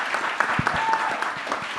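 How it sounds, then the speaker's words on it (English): Audience members at a community conversation in New York clap briefly, a short, moderately loud patter of applause with a few distinct low thumps and faint voices mixed in. "Yeah, y'all can clap for her."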